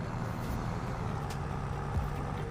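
Farm vehicle driving in Farming Simulator 23 mobile, a low, steady engine rumble with a faint hum on top, continuous and moderately quiet.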